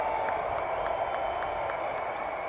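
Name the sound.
football stadium crowd cheering on third down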